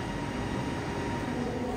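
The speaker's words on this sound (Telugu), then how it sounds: "చూడండి, మన ట్రైన్ వస్తుంది." A driverless automated metro train pulls into a station platform, a steady, loud, broad rumble of wheels and motors with no break and no voices.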